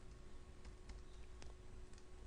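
Rapid keystrokes on a computer keyboard, a steady run of light clicks at close range over a constant low background hum.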